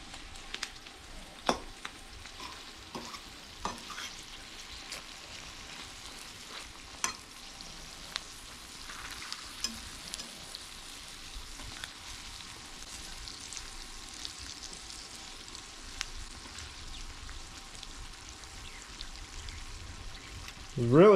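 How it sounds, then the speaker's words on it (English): Sauerkraut and potatoes draining and sizzling on a wood stove in a garage with a big fire going, a steady faint crackling sizzle with scattered sharp pops and ticks, fairly close and quiet. "Draining the sauerkraut and potatoes into my leftover simple green"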